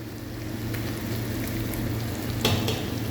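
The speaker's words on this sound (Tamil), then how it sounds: "வெங்காயம் நல்லா வதங்கிட்டு இப்போ தக்காளி சேர்த்துருக்காங்க." Onions and tomatoes frying in a pan for onion thokku, a steady close sizzle with a low stove hum beneath and a brief scraping stir near the end, no voices.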